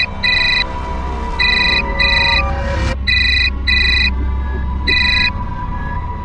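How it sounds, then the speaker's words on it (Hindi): A phone rings in a home, giving repeated electronic two-tone bursts in an even on-off rhythm, six chirping pulses over a low steady hum. Loud and close, with a brief swish partway through and no talking. "विकास का फोन है, बात कर लो।"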